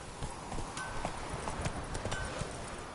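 Steady clip-clop of the horse Roach's hooves in a video game, a brisk close rhythm of hoofbeats running throughout.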